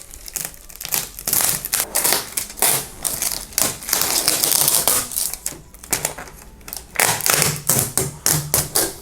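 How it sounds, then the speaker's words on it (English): A boxed 3D printer, the Flash Forge Adventurer 3, is unpacked: loud, close crinkling of plastic wrap and packing material, with clattering taps in bursts across the stretch and no speech. "So it looks like we have a lot more unwrapping to do here."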